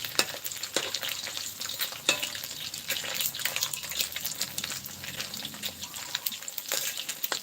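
Fish frying in hot oil, a steady crackling sizzle with sharp spitting pops throughout, moderately close and alone with no voices.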